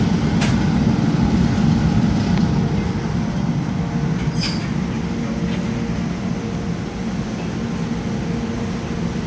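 A glassblowing reheating chamber furnace roars in a loud, steady, broadband rush that fills the space without a break.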